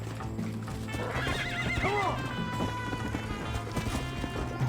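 Horse in the Western video game Red Dead Redemption (2010) neighs loudly, a rising and falling whinny, over rapid galloping hoofbeats and game background sound.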